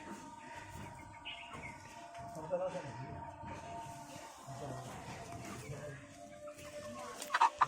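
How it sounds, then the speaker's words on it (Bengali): A rooster clucks in a backyard where finches are also kept. Soft, intermittent clucks sit under steady nearby talk, with a few brighter chirps near the end. "এই যে আমার আর একটা মোরগ আছে এখানে"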